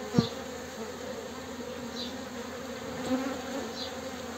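Honeybees buzzing at a crowded hive during queen introduction, a dense continuous drone close by, with a couple of faint knocks and brief louder passes of individual bees.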